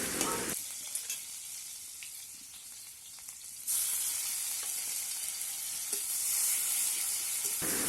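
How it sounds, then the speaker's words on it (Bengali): Onions frying in hot oil in a village kitchen, a steady close sizzle and hiss that swells louder midway and runs on without any talk. "আবারও তেল পেঁয়াজ দিয়ে দিলাম"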